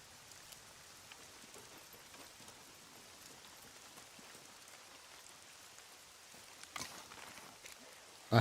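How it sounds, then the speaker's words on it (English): Rain falls in the survival video game SCUM as a soft, steady hiss of drops, faint and continuous, with a brief louder patter near the end. "I hate coming here in the rain."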